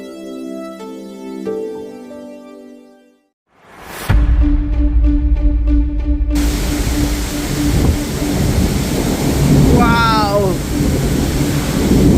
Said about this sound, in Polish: leje deszcz, pioruny trzaskają, a deszcz to normalnie tylko zacina